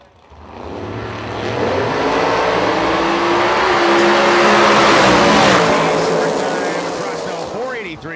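A 1984 Notchback Mustang drag racing, its engine roar swelling from quiet to a loud sustained howl through the gears and then fading away.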